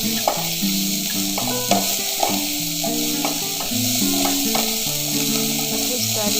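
A mixture of beetroot and carrot sizzles in a pan while being stirred, a steady frying hiss running throughout with scattered scraping and clinking from the utensil and light music playing underneath.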